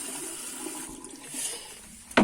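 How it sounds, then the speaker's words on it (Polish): A bathroom water tap runs in a steady hiss of flowing water, with a brief louder splash or clunk at the very end; no one speaks. "Kran działa."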